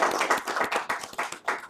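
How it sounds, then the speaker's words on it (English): A crowd applauding club management at the launch of a Nepali community cricket T20 league, with dense, steady clapping through a short burst. "A huge round of applause to them."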